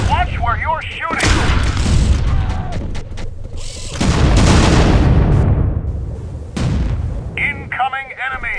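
Gunfire and explosive booms in the video game Starsiege: Tribes on the Raindance map, loud bursts of shots and blasts with game voice callouts between them.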